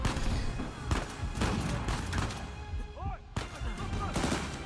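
Gunfire in the video game Uncharted 4 pops in a rapid series of sharp shots and bursts, spread across a busy in-game soundscape of mid-loud firefights.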